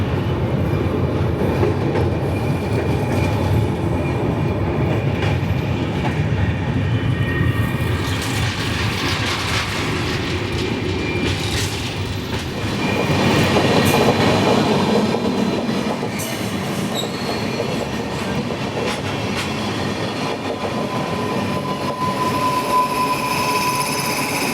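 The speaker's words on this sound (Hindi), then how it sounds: "अंदूर रेलवे स्टेशन पर हमारी ट्रेन ओवरटेक कर रही है एलटीटी शालीमार एक्सप्रेस को।" Gitanjali Express running through Andul railway station while overtaking the LTT Shalimar Express, with a steady loud rumble and clatter of rolling wheels that swells slightly midway and continues throughout.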